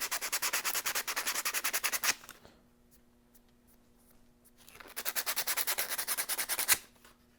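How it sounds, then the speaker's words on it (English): Sandpaper rubbed back and forth over an e-bike brake pad, fast rhythmic scratchy strokes for about two seconds, a quiet pause, then another steady burst of sanding strokes ending in a sharper scrape. "use sandpaper to get that first layer of the brake pad off"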